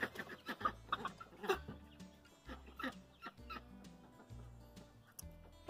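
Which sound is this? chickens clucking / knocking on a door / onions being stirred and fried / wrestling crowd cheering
chickens clucking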